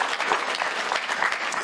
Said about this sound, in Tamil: நல்லாவே கைத்தட்டலாம், தப்பு கிடையாது.